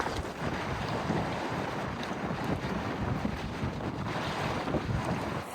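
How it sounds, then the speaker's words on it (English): Heavy gusts buffet the microphone in a continuous rumbling roar, with no speech. "it's pretty windy"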